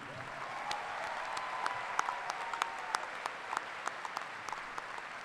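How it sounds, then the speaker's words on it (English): A crowd at a high school graduation ceremony applauds the graduates, a steady background wash of clapping dotted with sharp individual claps, heard from some distance. "Please join me in applauding these outstanding young men and women."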